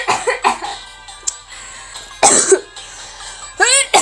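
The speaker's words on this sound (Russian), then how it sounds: "посмотрим, как я кашлял, блядь, всю игру" A gamer coughs repeatedly during play: clusters of sharp, close, loud coughs and throat-clearing bursts separated by short pauses.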